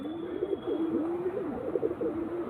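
Close, soft cooing from a Chennai breed pigeon rises and falls in wavering, repeated phrases over a low steady hum.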